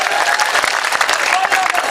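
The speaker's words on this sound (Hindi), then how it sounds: "एक बार दोनों हाथ में जोरदार तालियां बजाइए मंसूर बदर साहब की मेहनत को" An audience at a mushaira poetry gathering in Saharanpur claps vigorously. The applause is close and busy, with a voice faintly mixed into the rapid clapping.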